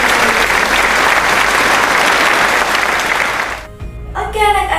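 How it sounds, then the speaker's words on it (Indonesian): A fourth-grade primary school class applauds students for presenting their discussion results. The loud, close clapping lasts about three and a half seconds before it stops abruptly and a teacher's voice follows. "Beri tepuk tangan untuk kalian semua"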